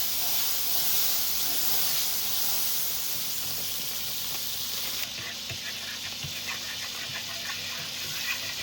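Butter melting into a hot Jamerican-style BBQ glaze for a burger, giving a steady broadband hiss and sizzle that holds throughout, with faint crackles and a few soft clicks near the end.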